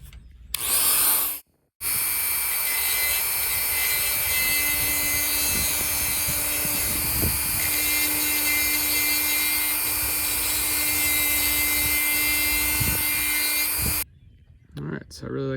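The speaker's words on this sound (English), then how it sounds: "You want to grind it out and get as deep as you can on that crack without going too far." An angle grinder works a crack in a boat's fiberglass gelcoat, running as a loud continuous whine with a steady hum. It cuts briefly near the start and stops before the end, with occasional scraping bursts as the disc bites.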